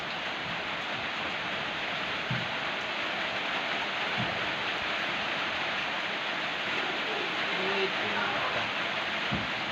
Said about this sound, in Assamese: মানে বৰষুণ দি আছে